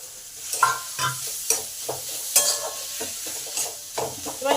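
Boiled potato stirred into tomato masala in a frying pan, giving a close, continuous sizzle broken by regular scraping strokes of the spatula about once a second.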